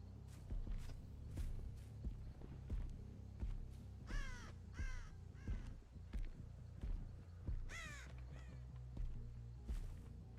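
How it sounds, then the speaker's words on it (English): In the Dead by Daylight video game, birds caw harshly in a few bursts over a faint background of scattered thuds, soft footsteps and rustling wing flaps. "I gotta scare all the pigeons."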